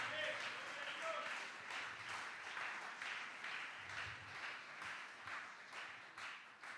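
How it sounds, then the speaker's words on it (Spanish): A church congregation claps steadily and fairly quietly through a worship service, sustained clapping that continues throughout. "Fuerte ese aplauso al Señor."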